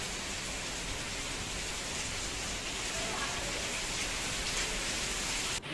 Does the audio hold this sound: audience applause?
no